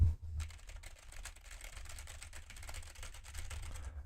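Rapid, dense clacking of a loud computer keyboard being typed on continuously, close and steady with a faint low hum underneath, no talking.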